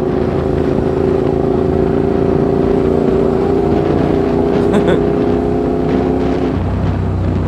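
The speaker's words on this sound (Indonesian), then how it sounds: "Aku ni exhaust dia bising kan." Naza/Hyosung Blade 650 GTR motorcycle with a loud exhaust, a steady engine drone on the road toward Ipoh, continuous throughout with a shift in pitch near the end and faint voice underneath.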